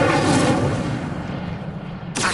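Incendio fire spell cast in Hogwarts Legacy, a loud whooshing burst with rumbling fiery roar that decays over two seconds, followed by a sharp new hit at the end.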